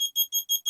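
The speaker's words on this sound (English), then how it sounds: "you can see that the buzzer is beeping" A buzzer on a homemade MQ7 carbon monoxide alarm circuit beeps five times in quick, even succession, each short tone loud, shrill and close, with nothing else heard.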